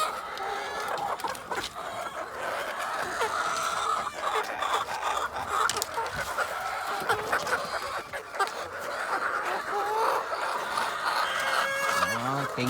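Backyard chickens cluck and squawk steadily over busy outdoor background noise, with overlapping calls from several birds at moderate distance throughout.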